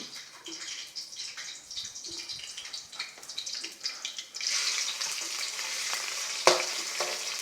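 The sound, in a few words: shrimp frying in pan for fried rice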